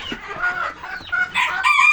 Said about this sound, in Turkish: Burada da ispençlerimiz var dostlar